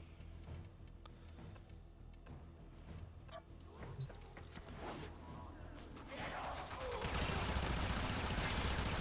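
Soma Prime rifle in Warframe firing rapid sharp shots in irregular bursts, then a denser roar of impacts and effects toward the end, under occasional quiet talk.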